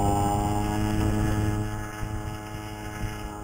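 CAG 49cc pocket bike engine held at half throttle while riding at about 25 mph, a steady buzzing drone that eases slightly partway through, heard alone without speech.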